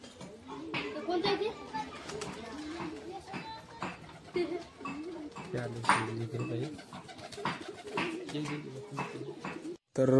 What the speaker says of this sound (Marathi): फायनली कबूतर आपले आज जात आहेत बघा